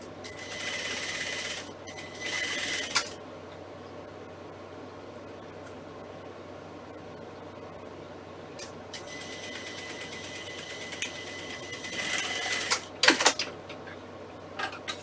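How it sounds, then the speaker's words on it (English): A sewing machine top-stitches fabric for a puppet in short, close bursts of rapid whirring separated by quiet pauses, with a few clicks and clunks near the end. "Stitched on top, just top stitched in."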